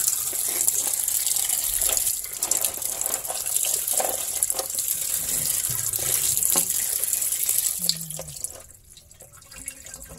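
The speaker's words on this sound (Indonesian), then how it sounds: "Dibilas sekali lagi ya, biar benar-benar bersih." Tap water runs steadily over freshly cleaned crabs being rinsed in a sink, a continuous splashing gush that tapers off near the end.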